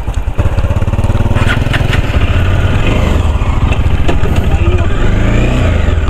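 A heavily loaded motorcycle engine labors through a river crossing in Abra, loud and close, its throttle rising and falling in rough revs with a constant rumbling drone.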